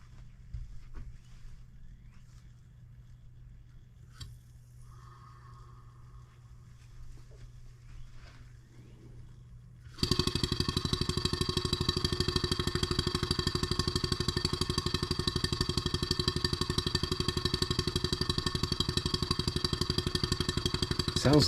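Stuart 7A model steam engine, just refurbished and mounted, running on compressed air: after a quiet stretch with faint background sounds, a loud steady rapid chuffing and clatter starts abruptly and continues evenly to the end.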